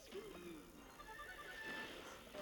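A horse neighs as the Prince card is deployed in the Clash Royale mobile game. The whinny is short and quavering and sits at low volume within busy, continuous game sound effects, with no talking.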